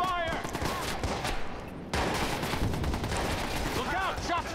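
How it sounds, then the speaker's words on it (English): Gunfire rattles in a Watch Dogs shootout: bursts of rapid shots and scattered reports over continuous game noise, with brief electronic chirps at the start and end. "Shots fired!"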